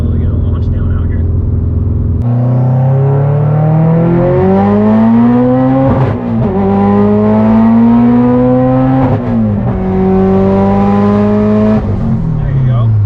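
A modified Subaru STI, a 9-second car, loud from inside as the engine revs climb steadily through several gears, with brief dips at each shift, and a voice heard faintly at times.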